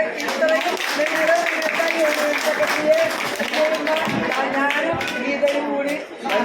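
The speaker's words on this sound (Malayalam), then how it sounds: "വലിയ കൈയടി വലിയ കൈയടി വലിയ കൈയടി" Applause from a crowd at an SNDP Yogam women's association gathering in the Parassala union: a dense, steady patter of many hands clapping that runs the whole time, mixed with a voice and some tonal sound.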